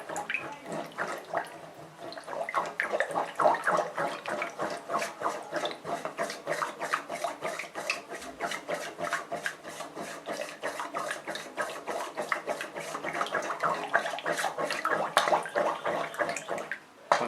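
Liquid soap mixture being stirred in water during soap making, a steady rapid sloshing and swishing that repeats in fast regular strokes, fairly close and continuous for well over fifteen seconds with no talking.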